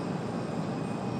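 A passenger airplane inbound from Wilmington on approach to Raleigh-Durham International Airport, heard as a steady, broadband engine roar at moderate distance with no talking.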